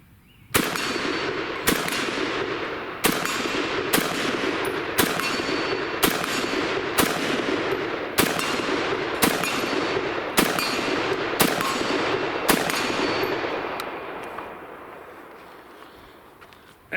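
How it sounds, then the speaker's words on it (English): IWI Tavor 7 .308 bullpup rifle firing steel-case ammunition, about a dozen loud sharp shots at a steady, evenly spaced pace, each with a ringing tail, ending as the magazine runs dry. "And I just want to shoot something."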